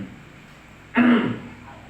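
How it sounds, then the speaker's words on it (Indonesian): A single close, short throat clearing, sharp and clear against a quiet background with no talk. "Habis itu berdehem 3 kali."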